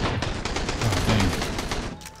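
Gunfire in the survival game Sunkenland: a rapid fusillade of sharp, loud shots crackling one after another for about two seconds, with no talk.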